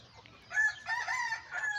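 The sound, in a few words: chickens clucking and rooster crowing in coop on rainy day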